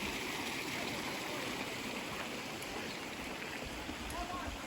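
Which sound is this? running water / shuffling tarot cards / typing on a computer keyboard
running water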